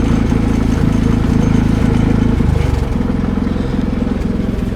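A Harbor Freight portable generator running on natural gas idles steadily after a load, a loud close droning engine with a steady mechanical chug and a slight dip in pitch partway through.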